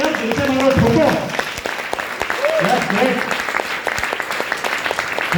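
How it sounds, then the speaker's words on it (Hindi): Loud applause fills a business event hall, a thick crowd of clapping hands with crisp claps cutting through, while voices talk and call out over it. "होनी चाहिए जोरदार तालियां, दिल से मारो, ठोको।"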